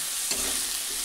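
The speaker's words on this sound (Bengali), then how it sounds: "হলুদ লবণ দিয়ে পেঁয়াজ লঙ্কা আর আলুটাকে ভেজে নিলাম ভালো মতো।" Potatoes, onion and chilli frying in a pan with turmeric and salt make a brief, close, steady sizzle with a small stirring clatter.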